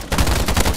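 Rapid gunfire from a video game shooter, a burst of repeated close, loud shots in quick rhythm with no talking.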